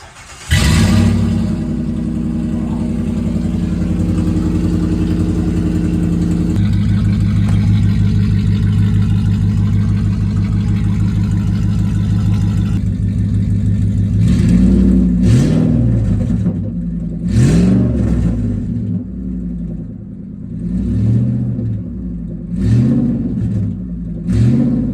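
A 4.7L Magnum truck engine with the muffler cut off, running straight pipe with cats, rumbles at a steady idle and then gives several sharp, loud revs close by.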